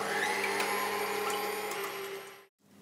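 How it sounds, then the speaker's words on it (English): An electric mixer whips egg whites and sugar with a loud, steady high whine that runs continuously and then briefly cuts out near the end. "So into the mixer that goes."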